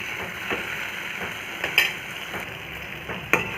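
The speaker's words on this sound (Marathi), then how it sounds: "या भाजीमध्ये घालून घेते आणि व्यवस्थित मिक्स करून परत टमाटर पूर्ण शिजतपर्यंत दोन तीन मिनिट भाजी परत मी शिजू देते" Bitter gourd and tomato vegetable cooks in a pan with a soft continuous sizzle, broken by a few sharp metallic clinks and scrapes as a spoon stirs it, close and without talk.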